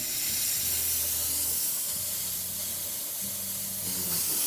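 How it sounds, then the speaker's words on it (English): A La Pavoni espresso machine's steam wand opens with a steady, loud hiss of spraying steam that runs the whole stretch alone, with faint low tonal hums underneath. "And let's turn on the steam."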